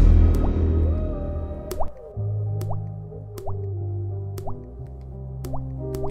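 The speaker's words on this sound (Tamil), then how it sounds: "யோ தண்ணி தொட்டு தொட்டு ஊற்றுது" Water dripping drop by drop, each drop a bright plink landing in a steady, slightly uneven rhythm over a low background hum, fairly close and clear, with no talk.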